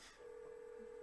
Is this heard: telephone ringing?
yes